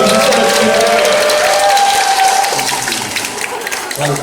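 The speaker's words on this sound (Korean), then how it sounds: "다시 한번큰 박수 부탁드립니다" Applause from the audience at a small lobby concert, a full burst of clapping with some cheering that gradually thins out, with a few voices mixed in.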